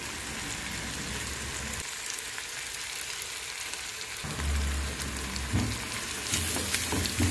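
Chopped onion and garlic sizzling steadily in a hot pan for a cassava and bacon soup, a continuous crackling hiss with a few louder bursts of stirring near the end.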